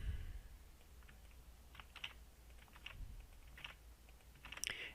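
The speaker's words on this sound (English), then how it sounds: "Type in your description." Quiet, close typing on a computer keyboard at a coffee and lunch shop point-of-sale system, a string of light, irregular key clicks over low background hum.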